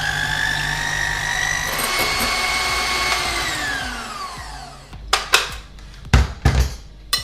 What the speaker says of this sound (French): dans les blancs, une petite pincée de sel, mon batteur électrique, et c'est parti